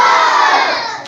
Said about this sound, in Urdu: ہم اپنے پاکستان کے لیے نعرے لگائیں گے اور سب کو جواب دینا ہے